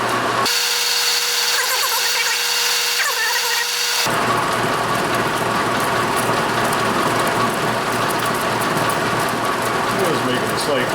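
Metal lathe cutting a Whitworth thread on a cane mill part, taking a deep cut: a dense, continuous grinding chatter of tool on metal, loud and close, with a voice speaking over the start.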